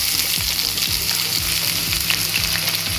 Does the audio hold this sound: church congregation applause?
no